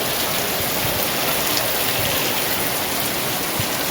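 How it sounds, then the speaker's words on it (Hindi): Steady, dense rainfall hissing continuously, loud and close, with no voices. "सुबह से बादल छाए हुए हैं हमारे तरफ, लेकिन अब बारिश हुई है।"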